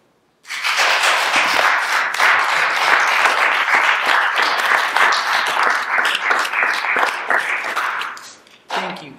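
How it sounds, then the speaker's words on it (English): An audience in a Senate chamber breaks into loud, dense applause that starts abruptly and holds for about eight seconds before dropping off. "If they can get a round of applause."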